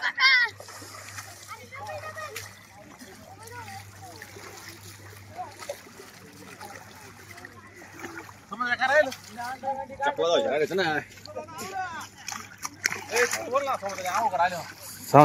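Water splashes and sloshing as people bathe in a pond at Jejuri, with several voices, including children, talking and calling out over the splashing, which grows livelier midway.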